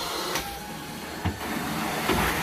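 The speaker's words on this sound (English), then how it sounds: "a super strong machine that can leave carpets fairly dry" Carpet cleaning machine working over nylon twist carpet gives a steady, broad whooshing hiss of suction, with a few soft thumps and squeaks as the wand moves, heard alone without talk.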